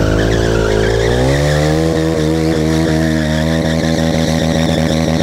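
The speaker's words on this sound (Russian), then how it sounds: "Мотоцикл чисто для стантрайдинга." A loud, revving stunt-riding motorcycle engine with a harsh tire skid, then a rapid rhythmic pulsing as the motor bounces off its limiter, close and continuous throughout.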